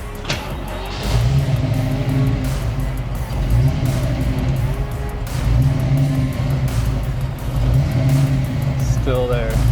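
A Ford Mustang Fox Body engine runs steadily at idle after a restart at a gas stop, with a low continuous rumble and slight fluctuations in the idle speed. Someone talks over it.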